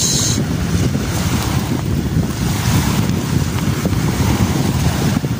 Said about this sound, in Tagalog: We are swimming in the beach.